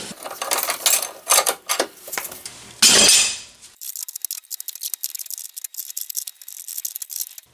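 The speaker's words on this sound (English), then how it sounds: "The pipe wrench keeps on slipping off and you're not really able to get any much purchase on it." A pipe wrench slips off a rusted ball joint, giving a run of loud, close metallic clanks and rattles, with one heavy scraping clatter near the middle and lighter tapping after it.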